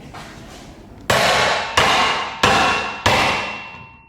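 A BMX frame swung down onto a wood block pressing in a bottom bracket bearing makes four sharp, ringing metallic knocks at an even pace, each decaying briefly, close and loud with no talking.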